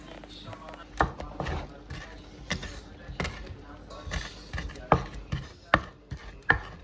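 A knife chops on a cutting board, giving a series of sharp, close knocks in an uneven rhythm with a few louder strikes near the end, over a busy background with faint voices.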